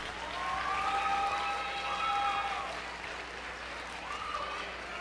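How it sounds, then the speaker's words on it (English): A school assembly crowd claps for Mackenzie, moderate and steady, while a thin whistling or squealing tone drifts over the applause. "How about another round of applause for Mackenzie?"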